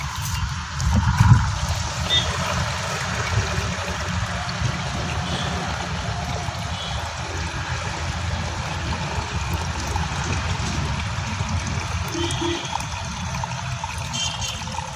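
Leftover water is poured into a container during crop spraying preparation on a farm, producing a steady trickling flow with a brief louder splash near the start.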